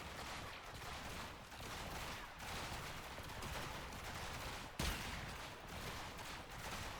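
Sustained rapid gunfire from the video game Warframe, a dense continuous fusillade of shots with a sharper burst partway through, steady and fairly distant-sounding throughout.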